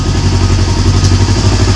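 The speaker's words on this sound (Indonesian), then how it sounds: "teman-teman bisa dengarkan suara mesin berebet-berebet" A Yamaha R25 motorcycle engine runs rough at idle with its headlights switched on, giving a loud, close, steady uneven putter and low throb with no talking over it.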